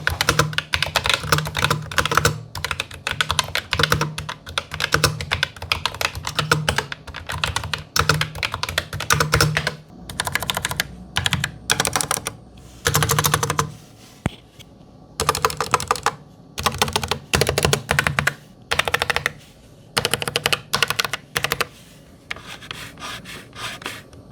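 Typing on an Asus ROG Claymore II mechanical keyboard with red optical switches: rapid, close clacking keystrokes in bursts separated by short pauses, with no talk.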